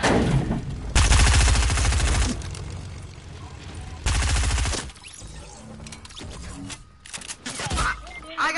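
Bursts of rapid gunfire in an online shooter game, loud and close in two heavy stretches, with quieter game sounds and scattered shots between them and players chatting.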